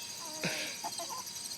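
A few short, soft clucks from a chicken, close by, with one sharper squawk near the start over faint background noise.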